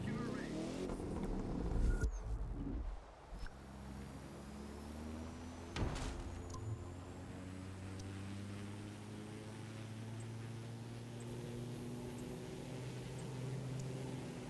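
Car driving in the racing game The Crew 2, a steady engine drone with rising gear tones and a brief louder rev midway, continuous and fairly close, with a voice talking over it.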